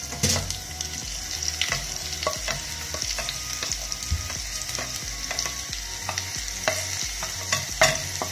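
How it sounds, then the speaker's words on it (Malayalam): Sliced onions fry in a pan for Malabar-style chicken curry, giving a steady, close sizzle. A spoon scrapes and stirs at an irregular rhythm throughout, with no talking. "സവാള ചേർത്ത് നന്നായി ഇളക്കി കൊടുക്കുക."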